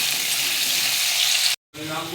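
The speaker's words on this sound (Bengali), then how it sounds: "সাদা তেলে ভাজছি।" Potatoes frying in white cooking oil in a pan, a steady loud sizzle that continues close up, cuts out briefly near the end, then resumes.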